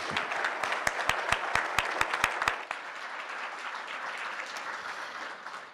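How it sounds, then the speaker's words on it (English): Forum audience applauding fashion panelists: a few loud, rhythmic nearby claps ring out over a bed of crowd clapping, then the steady applause carries on more softly after the close claps stop. "let's all give our panelists a round of applause"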